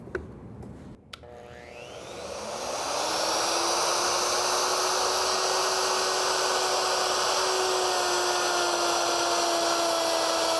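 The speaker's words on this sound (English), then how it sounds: "And I'm ready to route this rabbet." A wood router spins up after a click, its whine rising over about two seconds into a loud, steady high-pitched roar as it cuts a rabbet sized for a 3/4 inch plywood panel, heard close with no voices.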